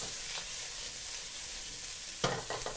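Small prawns spread out in a hot pan sizzle steadily up close, with a brief burst of louder spattering and a couple of stirring scrapes near the end.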